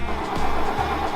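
An old Toyota engine, a long-forgotten vehicle, runs loud and close with a steady droning idle and faint rhythmic pulsing, no voices over it.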